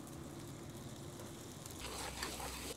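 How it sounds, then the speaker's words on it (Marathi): Chopped onion with green chilli and tomato fries in a pan for a Rajasthani aloo pyaz paneer curry, giving a steady close sizzle that grows louder and brighter partway through, with no talking. "बारीक कापलेला कांदा आहे, व्यवस्थित फ्राय करून घेऊ आपण 5 मिनिटं"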